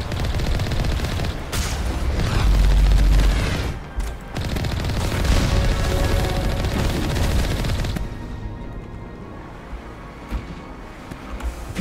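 Heavy cannon and rapid weapon fire in the Mass Effect video game, a dense, loud barrage of booms and bursts that rolls on for several seconds before easing into sparser shots.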